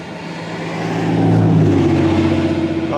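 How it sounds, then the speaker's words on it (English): A vehicle passes close by, its engine tone swelling to a peak and sliding down as it goes, with steady road noise behind. "I'm right on the edge of the road, so getting a lot of car noise"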